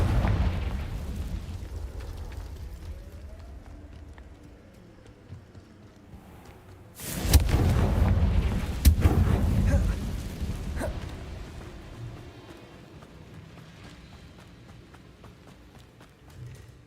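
A Confringo fire spell from Hogwarts Legacy bursts loudly mid-scene as a sharp blast with a rumbling tail, and a second crack follows close behind, both rising above a low game ambience.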